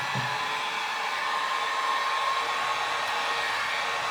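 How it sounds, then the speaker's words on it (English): A heat gun blows hot air onto a vinyl headliner, giving a steady, close, whooshing fan-and-air roar with no speech. "Because I was fixing to break the heat gun out."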